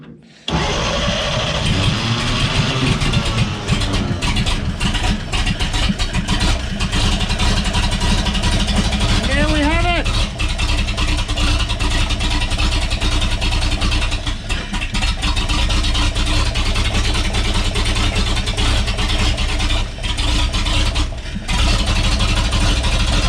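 An old carbureted engine with a big fuel filter cranks briefly, catches and settles into a loud, steady idle, with a short rising whine partway through and the rumble continuing close up to the end.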